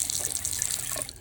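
Water runs from a tap in a shop under restoration, a steady close hiss and splash of flow into a sink that tapers off at the end.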